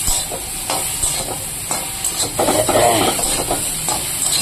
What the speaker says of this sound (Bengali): তারপরে এবার এগুলো দিয়ে একটু কষিয়ে নেব নিউট্রেলাটা দিয়ে